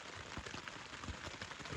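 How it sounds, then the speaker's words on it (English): Steady light rain patters on a tent at a wilderness campsite in Woodland Caribou, a faint, even hiss of drops with no voices. "It's been raining for about 2 hours now"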